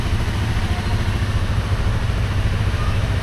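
Two motorcycles, loaded with luggage for a trip, idle together after starting, giving a close, steady low chugging rumble with no revving.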